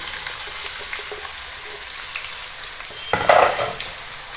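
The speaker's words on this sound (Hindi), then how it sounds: "अब हमने इनको हल्का हल्का सा फ्राई करना है" Pieces of tinda fry lightly in ghee over a medium flame with a soft, steady hiss. A brief louder crackle and clatter near the end marks them being moved in the pan.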